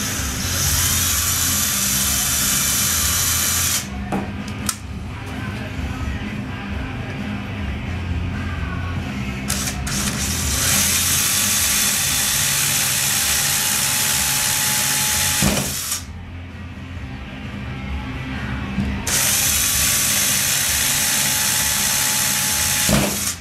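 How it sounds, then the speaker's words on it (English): A power drill running at an outdoor hockey rink, long steady whirring bursts broken by short pauses, loud and close with no talk. "You start drilling."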